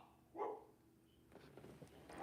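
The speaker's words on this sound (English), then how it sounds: "I don't know what she's barking at" A dog named Sadie barks once, faint and somewhat distant, followed by quieter rustling and a softer yip-like sound near the end.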